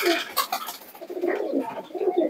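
A pigeon coos softly and repeatedly at close range, in low, rolling throaty phrases with no other sounds around it.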